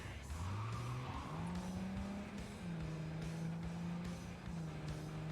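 In Cyberpunk, a car's engine whines and climbs through gears over loud, sustained tire squeal and skidding, the driving noise close and continuous with faint thumps of impacts.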